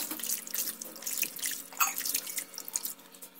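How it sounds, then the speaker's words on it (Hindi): Cold tap water runs and splashes into a sink during a face wash, a close, continuous hissing trickle with irregular drips and splatters over a few seconds and no speech. "अब आपने ठंडे पानी के साथ अपने चेहरे को वॉश कर लेना है।"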